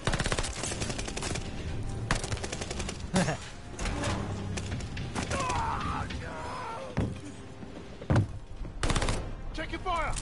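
Rapid bursts of automatic gunfire crackle through a Call of Duty Vanguard campaign battle, with sharp single shots punctuating the steady rattle and a voice shouting over the din.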